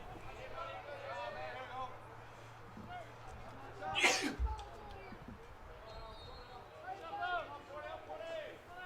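A baseball commentator's single sharp sneeze bursts out midway through a Division III college game broadcast, faint and close, with quiet talk and crowd background around it.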